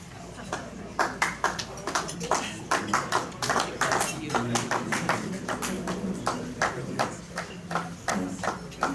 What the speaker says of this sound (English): Somebody was really clapping.